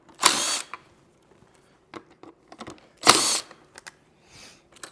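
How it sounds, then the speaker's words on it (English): Bolts are pulled out of a Camel T7 minimalist motorcycle rack, with two loud whirring bursts from a power driver and scattered small metallic clicks and taps between them, close up. "So there's a bolt here and another one on the other side. We'll pop those out."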